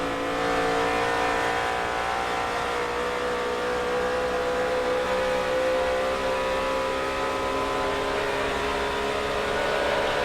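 Dale Earnhardt Jr.'s NASCAR Nextel Cup race car engine at the 2007 Sharp Aquos 500, a loud, continuous in-car roar that eases off slightly and comes straight back to full throttle.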